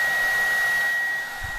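A Dyson cordless vacuum cleaner runs on boost mode, giving a strong, steady high-pitched motor whine up close that eases slightly near the end.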